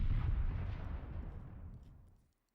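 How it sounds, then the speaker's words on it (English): Massive distant explosion in the video game Nikke, a deep low rumble that starts loud and slowly fades away over about two seconds, heard alone. "It's far away, but the explosion sounds massive."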